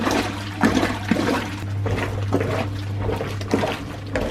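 Vintage washing machine filling with hot water and detergent, a continuous gushing rush with a steady low hum underneath and occasional surges and sloshes, no talking.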